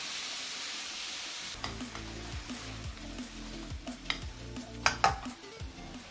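Chicken thighs stir-frying in a wok, quiet hiss at first, then a louder sizzle with repeated rhythmic scraping and tossing strokes and a few sharp metallic clanks of utensil on the pan.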